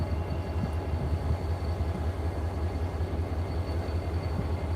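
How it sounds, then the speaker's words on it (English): Switcher locomotives working at the DeButts rail yard, heard from a distance as a low, steady engine rumble with a faint continuous hum and no distinct events. "There's our switchers."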